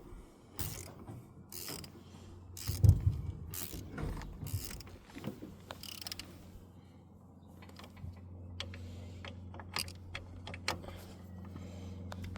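Brake caliper carrier bolts are refitted on a Renault Twingo, with faint metallic clicks, ratcheting and clanks spread unevenly across a quiet workshop background.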